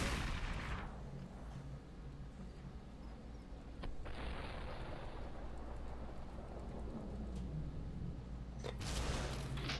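Video game gunfire in SUPERHOT, several loud booming shots with sharp transients near the start, around four seconds and near the end, over a steady low rumbling background.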